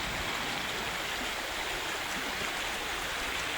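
A mountain stream rushes steadily nearby, a dense, unbroken wash of flowing water at constant loudness with no voices.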